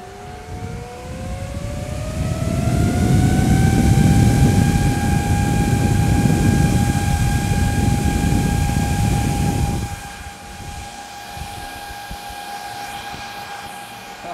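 High-pitched cryptocurrency mining rig fans in a closed case, mining Monero, spin up with a rising whine into a loud, roaring drone, then the roar drops while the steady tonal whine continues.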